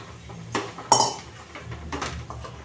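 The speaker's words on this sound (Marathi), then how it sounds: "आता परतवून घ्यायचं आहे।" Metal utensils clink against a cooking pan in a few sharp strikes while soybean pulao with masala is stirred and sautéed, with a quiet background and no voices.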